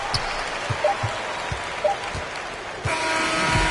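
Home crowd in an NBA video game, Timberwolves visiting the Clippers, roars as a broad wash of applause and cheering that swells louder near the end, with soft thumping steps and squeaks under it.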